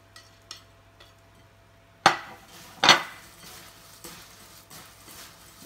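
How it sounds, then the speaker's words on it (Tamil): Crispy fried kara boondi is tossed in a bowl, giving two sharp, dry crunching rattles with a few fainter clicks around them, close up in a quiet room. "சத்தத்தை தெரியும் உங்களுக்கு, நல்லா அது மொறுமொறுன்னு இருக்குன்ட்டு"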